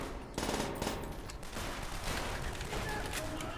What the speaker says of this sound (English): firing bursts of machine guns and submachine guns